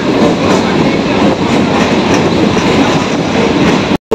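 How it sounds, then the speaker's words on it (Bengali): Kolkata local train pulling away toward Khidirpur station, a loud, close, steady rumble of wheels and carriages that cuts off abruptly near the end. "ট্রেন রওনা দিল খিদিরপুর স্টেশনের উদ্দেশ্যে"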